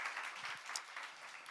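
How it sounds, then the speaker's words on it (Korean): Congregation applauding the worship team in a church service, a brief, soft patter of clapping heard from a distance, fairly even with no voices over it. "오늘도 영감이 넘치는 찬양을 섬겨주신 우리 찬양팀에게 격려의 박수"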